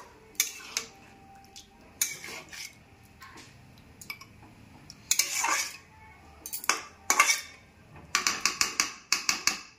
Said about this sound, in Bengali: এরপর আমি গ্যাসের ফ্লেমটাকে মিডিয়াম রেখে আস্তে আস্তে চিকেনটা আমি কষাতে থাকবো।